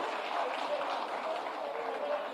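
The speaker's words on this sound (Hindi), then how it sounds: "जोरदार ताली" A crowd at an official appointment-letter ceremony for teachers claps steadily, a soft, continuous wash of applause heard from some distance.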